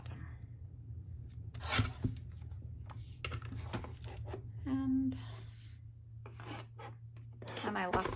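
A paper trimmer blade slides across a photo with a soft rasping rub, a few short strokes and handling noises over a steady low hum, close and moderately quiet.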